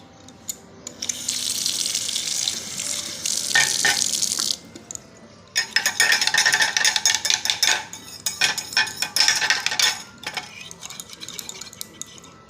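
Tap water running into a metal pot in a home kitchen while pasta is prepared, a steady splashing rush that stops briefly midway, then resumes with clinking cookware.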